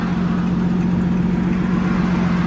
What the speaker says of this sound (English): David, the reason why I pulled you over is for your loud exhaust